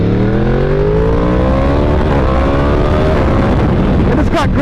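Yamaha R1M motorcycle accelerating hard with close, loud engine harmonics sweeping upward through several rapid quick-shifter gear changes, the pitch rising repeatedly, amid wind and road noise.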